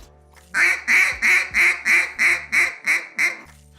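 A Flight Control duck call blown in a quack cadence: nine evenly spaced, loud, close quacks in a steady rhythm, each easing off softly rather than cutting off hard.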